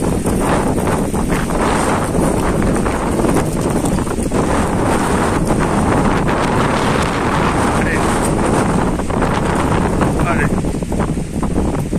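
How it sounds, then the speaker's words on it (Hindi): A strong gusty wind roars during a sudden storm in a village, loud and continuous with heavy buffeting on the microphone, a dense rushing noise that never lets up. "बहुत ही ज्यादा तेज हवा चल रहा है यहाँ पर।"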